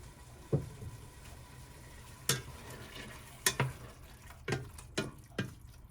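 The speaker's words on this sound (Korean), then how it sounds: "두 숟가락 넣고 볶아주겠습니다" Ingredients stir-fried in sesame oil in a pan for seaweed and oyster soup, with a steady low sizzle and several distinct scraping stirs of a spoon against the pan, close and fairly clear.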